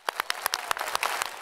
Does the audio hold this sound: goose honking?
no